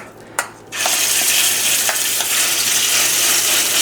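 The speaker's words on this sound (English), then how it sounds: "my skillet's preheated. I'm gonna add this in here just like a batter" Meat batter drops into a preheated skillet, setting off a sudden, loud, steady sizzle and spatter that carries on close up after a brief click, with no talking.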